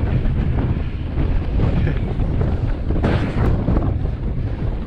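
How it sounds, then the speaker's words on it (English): Strong wind roars and buffets the microphone while skiing, a loud, continuous rushing noise with no break. "Too much wind."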